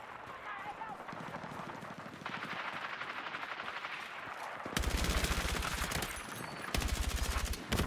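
Rapid shotgun blasts from Battlefield 6 gameplay, first as a dense stretch of gunfire, then louder bursts that repeat in close, pounding volleys.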